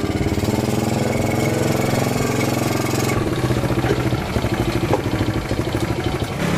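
Motorcycle engine idling close by, a steady rapid putter of even pulses that holds for several seconds without talk.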